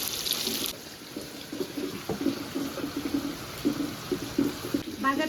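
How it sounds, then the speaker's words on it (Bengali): Tap water runs close by as teasel gourd is rinsed, a steady splashing stream broken by irregular spatters from the washing. "প্রথমে একটু ভালো করে ধুয়ে পরিষ্কার করে নেব।"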